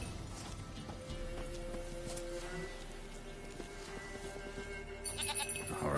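A goat in Witcher 3 bleats faintly amid outdoor game ambience, with soft hoof clip-clops and a brighter rustle near the end.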